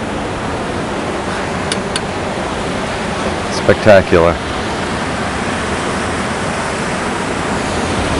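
Ocean surf at Baldhead Cliff rolls on as a steady, broad wash of noise that fills the whole clip, with a voice briefly speaking over it midway.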